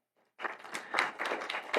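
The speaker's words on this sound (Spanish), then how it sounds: "Está con nosotros la doctora Esperanza Palma, para quien pido un aplauso" Audience applause for a doctor speaker on an academic gender panel at UAM, a burst of close, steady hand clapping that swells and continues without talk.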